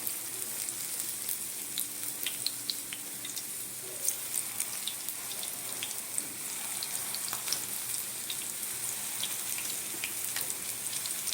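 Pakoras made from gime greens coated in gram flour and rice flour batter fry in hot oil in a saucepan, a continuous fizzing sizzle dotted with fine crackles and pops, steady and moderately close.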